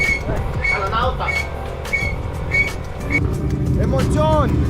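A drift car roars past at the Haapsalu drift event opener, its engine loud and fairly close with rising and falling revs, while people talk nearby.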